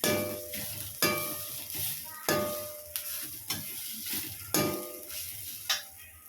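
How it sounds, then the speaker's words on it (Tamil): Coriander, curry leaves and mint fry in a pan for Chettinad masala, a soft steady sizzle broken by repeated sharp clangs and scrapes of a spoon stirring against the metal. "கொத்தமல்லி, கருவேப்பிலை, புதினா சேர்த்துக்கலாம். சேர்த்து அதையும் சேர்த்து நல்லா ஃப்ரை பண்ணிக்கலாம்"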